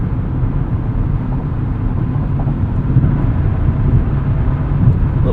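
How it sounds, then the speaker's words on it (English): Steady low road roar from a 2023 Nissan Z cruising on the highway at about 75 mph, tire noise blending with a constant engine drone, continuous and fairly loud with no talk. "A little bit of tire noise, but that's about it"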